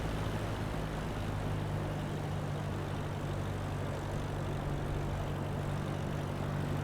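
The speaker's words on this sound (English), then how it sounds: "we're going to reduce the engine power so we can drop the altitude a bit" A simulated airplane engine in Microsoft Flight Simulator 2020 drones steadily and loudly as the aircraft flies over Seville, a continuous propeller hum with no clear change in pitch or level.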